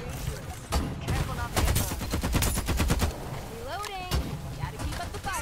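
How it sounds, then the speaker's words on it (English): Video game gunfire from people shooting, rapid strings of loud close shots in quick bursts that give way to scattered single shots, with voices talking over the action and a swooping electronic effect near the end. "We got people shooting right here."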